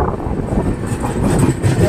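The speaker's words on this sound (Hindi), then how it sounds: "कोई शताब्दी एक्सप्रेस लग रही है यार ये तो।" A Shatabdi Express train rumbles past close by, a steady loud roar of wheels and carriages with a rattling clatter throughout the short stretch, no voices over it.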